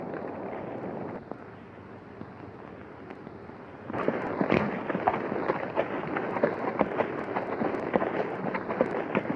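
Gunfire in a 1939 western film shootout: sharp repeated shots and cracks at moderate distance. A quieter stretch comes first, then a dense burst of overlapping reports over a rough, noisy background, with no speech.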